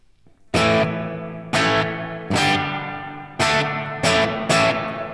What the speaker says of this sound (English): let's hear what it sounds like if we were to put reverb before distortion